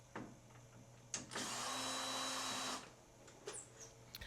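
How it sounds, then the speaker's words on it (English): A power screwdriver whirs in one sustained high buzz for over a second while removing captive screws from a trim panel on an Ampex VPR-3 video recorder, with faint clicks and handling noises before and after in a quiet room. "you can see we're taking the screws out around the periphery of the panel"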